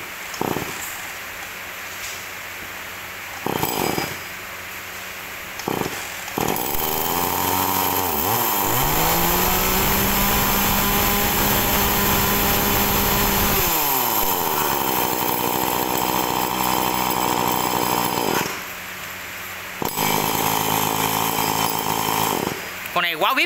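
A used Japanese chainsaw engine idles with sputtering pops, then revs up to a loud, sustained high whine for about ten seconds before dropping back to a rough idle, with someone talking throughout.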